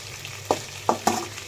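Boiled potatoes and tomatoes fry in oil with a soft steady sizzle, broken by three short scraping bursts as a spoon stirs them.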